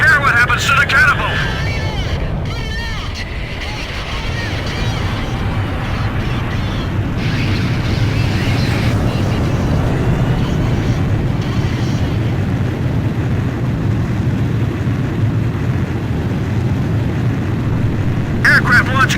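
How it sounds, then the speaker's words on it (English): A jet on an aircraft carrier catapult in Ace Combat 5 roars with a steady, loud low engine rumble that holds throughout, while voices talk over it. "Aircraft launch confirmed."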